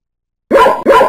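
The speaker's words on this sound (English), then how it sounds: "Dogs, bark." Two quick, close barks from a dog in a tight pair, loud and clear with no other sound around them.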